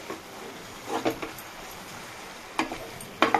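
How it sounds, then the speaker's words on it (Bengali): A spatula stirs pumpkin greens frying in a pan over low heat, giving a few scattered scraping clicks over a faint, quiet sizzle. "অল্প করে আমি আঁচ দিয়ে নাড়িয়ে দিচ্ছি। তো ভালো করে কষিয়ে নিচ্ছি।"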